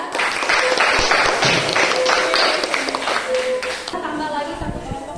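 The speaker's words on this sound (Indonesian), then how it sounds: "Tepuk tangan untuk kelompok 4." Steady applause from a classroom audience for a student group, dense and continuous for several seconds, fading slightly near the end with scattered claps.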